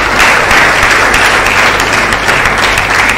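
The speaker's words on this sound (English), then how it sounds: "I think the university deserves a big round of applause." Steady, dense applause from an audience at a physiotherapy profession induction ceremony, loud and sustained with no break across the whole stretch.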